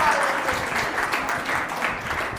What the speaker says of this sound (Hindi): ताली बजाइए हमारे बच्चे।